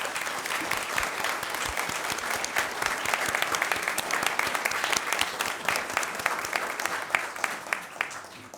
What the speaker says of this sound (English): So a round of applause for Lieutenant Traeger.